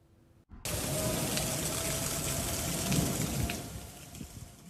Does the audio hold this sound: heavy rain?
yes